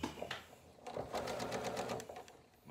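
A sewing machine runs a blanket stitch along the edge of a quilt strap, whirring quietly and close in a fast, steady chatter of needle strokes, with no talking over it.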